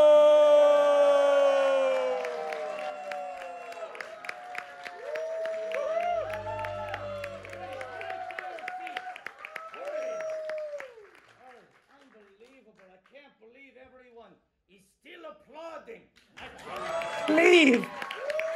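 A live comedy talk show audience at the Edinburgh Fringe claps and cheers, loud at first, then thinning into scattered claps, with a host's amplified voice talking and shouting over the crowd noise.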